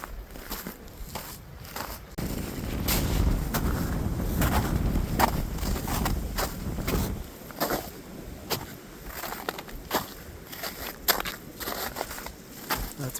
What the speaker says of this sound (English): The wind is really blowing up here.